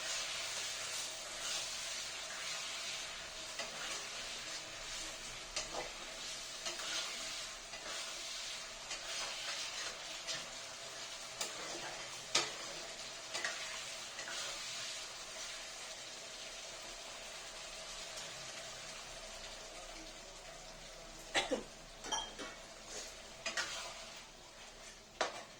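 Fish curry masala simmering in a pan after water is added, village-style cooking, with a steady broadband sizzle and bubbling hiss and occasional light clinks of a spoon, louder scraping taps near the end.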